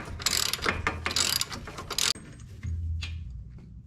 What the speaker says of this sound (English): I got an extension, a 1/2 inch ratchet, and a 17 mil up in there